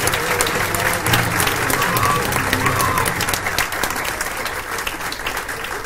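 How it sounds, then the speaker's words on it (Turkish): Sustained audience applause for young children at a Turkish Quran course Mawlid week performance, a dense steady wash of many hands clapping throughout with a faint voice or two mixed in. "Daha güçlü alkışlar istiyoruz."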